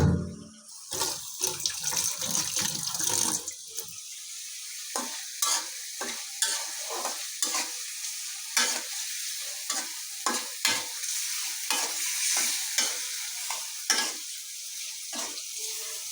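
Stinging catfish (shing fish) sautéing in spices in a pan, a steady frying sizzle with repeated stirring scrapes and clinks, close and fairly loud, with brief running water at the start.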